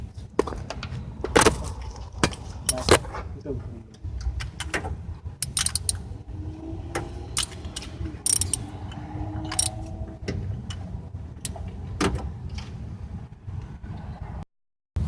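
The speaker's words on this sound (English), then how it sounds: "Tighten this down snugly and then check it with the torque wrench." A breaker bar and torque wrench tighten parts on the engine of a waterlogged 2000 Honda Odyssey, heard as a run of close metallic clicks, ratchets and tool clanks at an irregular pace, with no talk.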